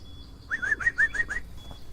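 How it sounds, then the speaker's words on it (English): Birdsong in a forest: a short run of about six bright, rising chirps in quick, even succession, fairly close and clear over quiet background hiss, with no talking. "The sound of bird song lightens your spirits. Ah, the good old bird song of the forest. Can you hear that bird?"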